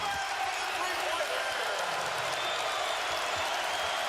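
Home crowd at a Michigan basketball game against Xavier roars after a made three-pointer, a dense, steady wall of cheering and applause filling the arena with no gaps.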